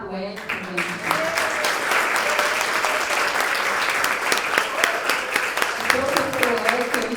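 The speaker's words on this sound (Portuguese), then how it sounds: "Palmas para o Edson também." Warm, sustained applause fills the room for Professor Edson at an academic round-table session, with voices briefly audible over the clapping near the start and end.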